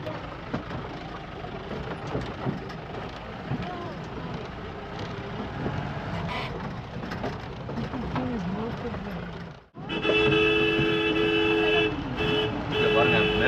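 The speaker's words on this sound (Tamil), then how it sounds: "அதுக்காக ஹார்ன் அடிக்கிறோம் பயங்கரமா." A jeep horn blares loudly and continuously near the end, over a steady engine drone on a steep uphill hairpin road in Wayanad, with voices talking throughout.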